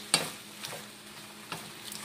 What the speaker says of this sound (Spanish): Vamos a sofreír todo esto, luego lo vamos a licuar